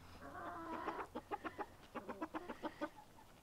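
Chickens cluck nearby in a quick series of short, rhythmic bursts, following a longer drawn-out call at the start.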